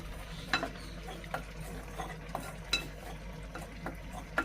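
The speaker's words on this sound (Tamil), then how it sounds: "ஓகே இப்போ வந்து நாங்கள் கொஞ்சம் தூள் எடுத்து இறைச்சி கறிக்கு நான் வறுக்க போகிறேன்" Spice powder dry-roasting in a pan for a meat curry, faint sizzling with intermittent scrapes and clinks of a utensil stirring, close and quiet with no talking.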